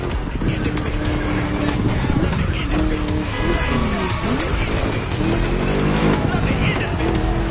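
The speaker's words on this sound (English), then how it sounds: "Just listen to that V8 like a chunky, down-tuned guitar riff" A loud V8 race car engine in a video game roars and shifts through gears, with tire noise and a busy mix under speech.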